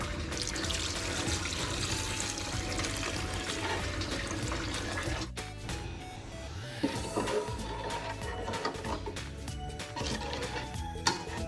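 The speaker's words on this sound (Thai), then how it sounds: "เทน้ำเปล่าลงไปครับ" Water pours steadily into a cooking pot for a northern Thai pumpkin curry, a continuous splashing gurgle that shifts in tone partway through, with faint clinks along the way.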